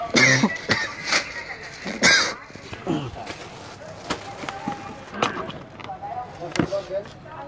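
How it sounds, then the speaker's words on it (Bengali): Several sharp coughs burst out at irregular intervals from someone showing a luxury silk clothing collection, loud and close, with faint talking and small handling noises between them. "কাশি আসতেছে।"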